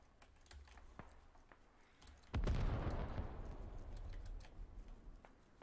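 An artillery barrage in a military video game set in a hillside operation, Operation Skira: quiet ambience with faint pops, then a sudden heavy blast that rolls into a sustained, loud rumbling roar.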